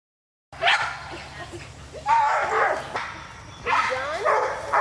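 Dogs, including a flat-coated retriever and a white German Shepherd, bark in loud bursts at a dock dog training session, three clustered rounds of barking with yips, close and lively.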